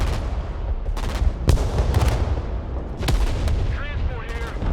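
Artillery booms in the wargame Broken Arrow, several heavy distant blasts spaced a second or so apart over a continuous battlefield rumble, with radio-style voices talking.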